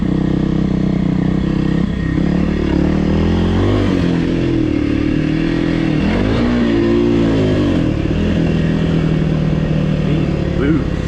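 2024 Kawasaki KLX300R dirt bike ridden along a singletrack trail, its single-cylinder engine revving up and down loudly and close with rising and falling pitch, mixed with clatter and wind, and a rider's voice talking over it.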